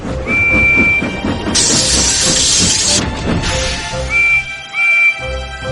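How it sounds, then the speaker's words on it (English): Toy steam engine whistle sounding faintly amid continuous rolling rail clatter, with a burst of hissing steam in the middle and short whistle toots near the end. "Then he heard a faint whistle."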